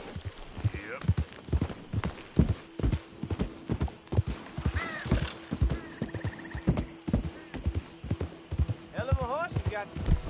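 Horse hooves clip-clopping in a steady trotting rhythm within a PS4 video game, close and prominent, with a couple of short neighs and whinnies breaking in and a voice talking over parts of it.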